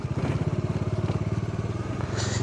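A Bajaj Dominar 400 motorcycle engine putters steadily with a rapid, regular pulsing beat, close and fairly loud, with no talking.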